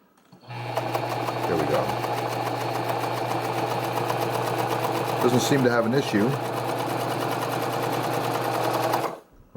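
A repaired Pfaff 230 sewing machine runs steadily for several seconds, a fast even mechanical whir and rattle, while someone speaks briefly over it midway.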